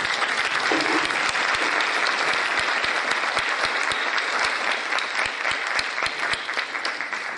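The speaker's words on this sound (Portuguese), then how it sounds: "Nós agradecemos mais uma vez a exposição dos nossos palestrantes e peço uma salva de palmas." Sustained audience applause at a legal training course on the new Civil Procedure Code, dense steady clapping filling the room for several seconds, with no talk over it.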